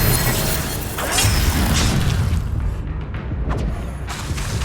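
A fire spell cast in the Hogwarts Legacy game, heard as a dense, loud burst of roaring, crackling magical effect with booming low rumble and scattered impacts, continuous throughout under ongoing battle noise.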